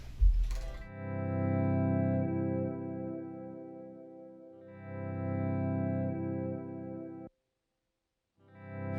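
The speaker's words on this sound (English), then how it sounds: "there's always going to be like a hard beginning to when I hit go on the loop pedal" A looped guitar phrase from a loop pedal on a worship pedalboard, run through chorus and distortion effects, starts abruptly after a brief noisy burst, swells and fades in sustained layers, then cuts off sharply to silence before restarting.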